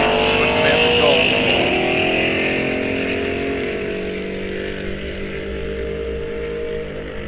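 Drag racing cars launch off the line in a bracket series at Rock Falls Raceway, engines loud and close at first with rising revs, then fading steadily into a distant drone as they pull away.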